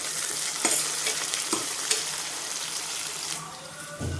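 Chopped onion and torn green chillies sizzle steadily in a pan for a mushroom masala curry, a continuous bright frying hiss broken by a few sharp scrapes of the spoon as they are stirred, with no talking.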